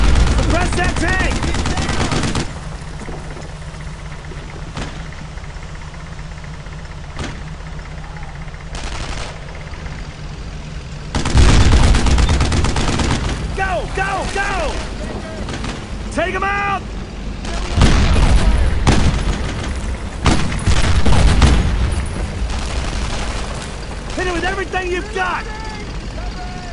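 Video game gunfire and explosions aimed at a tank in Brothers in Arms: Road to Hill 30, a loud continuous barrage of rapid shots and booms with heavier surges partway through, and soldiers shouting over the battle.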